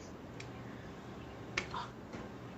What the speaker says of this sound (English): I snap my fingers